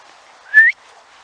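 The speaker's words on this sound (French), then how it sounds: "Je siffle pour appeler la grosse." A single short rising whistle by a person calling a dog at dusk among vineyards, loud and close, surrounded by near silence.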